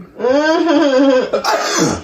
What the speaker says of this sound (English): It's not too spicy, but I'm about to sneeze.